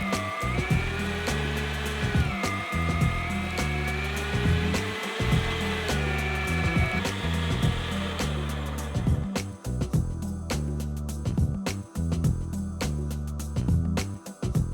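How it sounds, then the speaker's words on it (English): An electric meat grinder works through chunks of brisket, short rib and picanha, a loud continuous motor whine with rhythmic churning and a pitch that shifts as pieces feed in, later joined by rapid ticking clatter. "it's a lot easier to feed it through your grinder if the pieces are a little longer"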